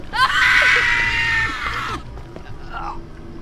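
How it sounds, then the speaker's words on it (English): A loud, sustained scream rings out in the horror video game Bunker 16, lasting nearly two seconds before cutting off abruptly, followed by quieter scattered sounds and a faint, brief wail. "I hear someone screaming again."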